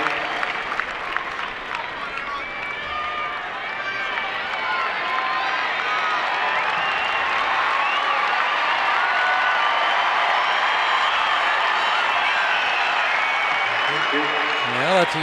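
Crowd at the US Open 2006 tennis final, clapping and cheering in a long, steady wave that swells and holds for about fifteen seconds, with commentary speech faintly under it near the start.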